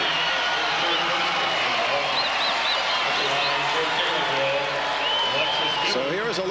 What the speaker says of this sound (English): And the Taylorville crowd goes wild